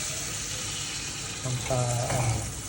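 A cup of water poured into a pork dish cooking in a pot, a short splashing gush over steady sizzling and kitchen noise.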